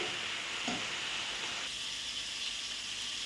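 Greens (shak) fry in a pan with a loud, continuous hissing sizzle that swells briefly as they are moved, then settles into an even close-up crackle.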